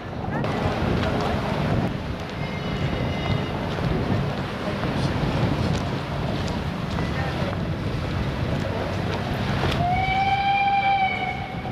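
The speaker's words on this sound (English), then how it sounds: "Trains in the distance." Distant trains rumble steadily under heavy wind noise on the coast at Watchet on Trafalgar Day, with a rising tonal whine near the end.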